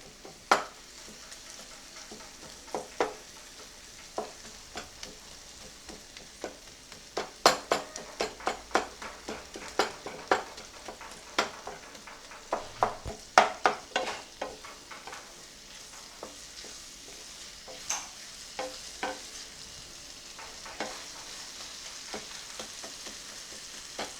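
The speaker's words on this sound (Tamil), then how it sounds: "இப்போ தக்காளி வெங்காயம் ரெண்டுமே கொஞ்சம் வதங்கிடுச்சு" Tomatoes and onions sauté in a pan with a soft, steady sizzle, punctuated by repeated sharp spatula taps and scrapes as they are stirred and mashed, close and continuous.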